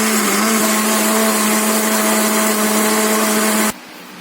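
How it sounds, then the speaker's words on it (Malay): Blender grinding five or six garlic cloves to a fine paste, a loud, steady motor whir that runs for nearly four seconds and then stops abruptly. "Dan juga 5 atau 6 ulas bawang putih, masukkan dalam pengisap. Kisar sehingga halus."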